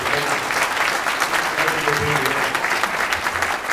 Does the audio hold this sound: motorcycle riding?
no